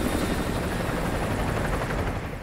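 Enemy helicopter in Call of Duty Modern Warfare 2 Remastered, a loud, dense rotor roar and engine rumble filling the scene continuously, close and steady.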